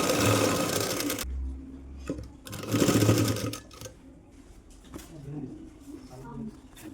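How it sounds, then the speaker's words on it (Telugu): A sewing machine runs in two loud bursts while stitching the side seams of a baby frock along chalk markings, with quieter workshop sounds and soft background noise between the runs. "ఆ మార్కింగ్ పైన స్టిచ్ చేసుకుంటున్నా."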